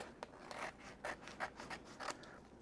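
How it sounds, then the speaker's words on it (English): Scissors trimming the sides of paper for a handmade craft card, a string of faint, close snips and rustling cuts in an irregular rhythm. "just trim there"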